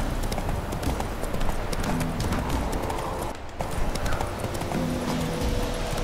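Hooves clip-clop steadily as a horse gallops in the video game The Witcher 3: Wild Hunt, a loud continuous rhythmic run with brief whinnying and a short dip midway, with a voice heard faintly.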